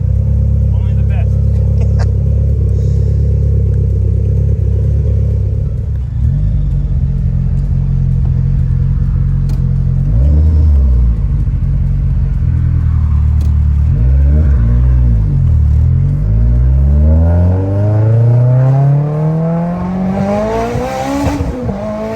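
Turbocharged car on 17 psi of boost revs and accelerates hard, its engine droning loudly and climbing in repeated rising sweeps through the gears, close and continuous from start to finish.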